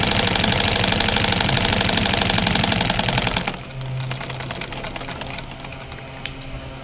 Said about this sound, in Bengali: এইভাবে আমি সমান দূরত্বে 3টা সেলাই দিয়ে নেব।